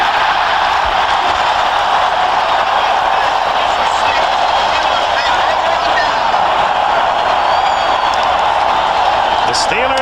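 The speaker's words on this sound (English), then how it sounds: "This crowd at Three Rivers ready to celebrate if Elway doesn't convert" The crowd at Three Rivers Stadium roars as the Pittsburgh Steelers stop the Denver Broncos on fourth down in a 1997 NFL game, a dense, loud, sustained wall of cheering under a broadcast announcer's voice.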